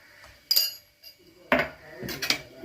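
Spoon clinking against a cooking pot while stirring turmeric, coriander, chili powder and meat masala for a chickpea curry, a few sharp metallic taps with short gaps between them, close.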